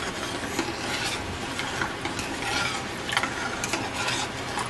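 Roux being stirred into tamale filling with onion flakes, a steady close scraping and rubbing of spoon through thick mixture that continues without pause and without talk.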